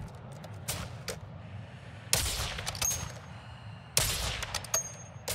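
Gunfire in the video game Call of Duty Warzone 2.0, with three sharp, loud bursts of shots spaced a couple of seconds apart over a steady low in-game rumble.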